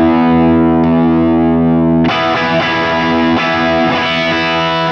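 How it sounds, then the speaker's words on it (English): An electric guitar plays through a shimmer drive preset on a Fractal AX8. A sustained distorted chord rings out first, then a loud, dense run of driven notes with a bright, hairy edge. "So this is a shimmer drive again."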